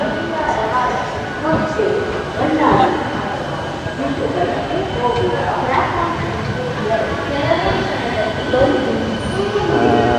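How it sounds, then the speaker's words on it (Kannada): An electric locomotive train rumbles past close by with steady loud rolling noise and faint wheel squeal, voices talking over it. "Electric locomotive."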